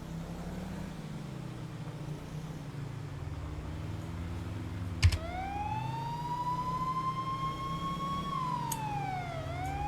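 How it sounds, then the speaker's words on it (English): A police car siren in the video game GTA 5 starts wailing midway, rising and falling over a constant rumble of engine and road noise, after a brief thump. "These guys are like not even responding to lights and sirens."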